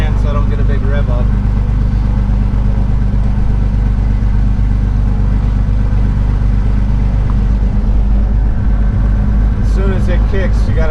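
A Cessna 310's piston engine runs loud and steady close by, its throttle held back with two hands to keep the revs low after start, with a person talking over the continuous drone.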